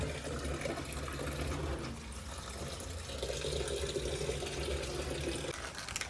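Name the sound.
water filling a washing machine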